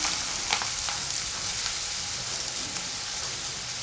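Onions and curry leaves go into a ladle of hot oil and sizzle, a dense, close, crackling hiss that holds steady throughout with a few sharper pops and no talking.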